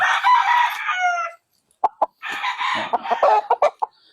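Backyard rooster clucking and crowing, with a long crow first, then a brief silence followed by sharp clucks and another crow, all close and clear.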